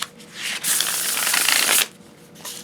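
A deck of Spirit Keeper's Tarot cards, Vitruvian Edition, is riffle-shuffled close up, giving one continuous crisp burst of fluttering card edges lasting about a second.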